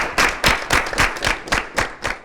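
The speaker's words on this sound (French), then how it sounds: "Nous allons raccompagner Fouébé par des acclamations" A studio audience on a youth debate programme gives a departing guest a short burst of rhythmic applause and cheering, with steady clap pulses close and lively throughout.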